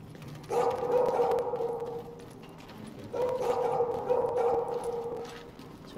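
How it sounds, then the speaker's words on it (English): A dog in The Division video game gives drawn-out barking or howling calls in two long bursts, fairly close and loud, with faint background sound between. "we have a dog down here."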